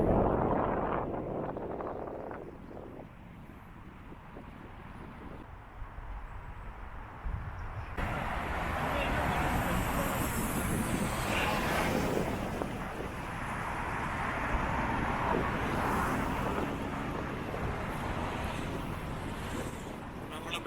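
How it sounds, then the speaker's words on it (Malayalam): Strong wind blows at a riverside in Londonderry near a bridge at dusk, a steady rushing roar with gusts that build and stay loud, buffeting the microphone. "നല്ല കാറ്റും തുടങ്ങി."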